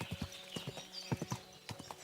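Horse hooves clip-clop in a quick, uneven trot inside the medieval video game Kingdom Come Deliverance, a run of close, crisp knocks with a faint whinny behind them and no talking.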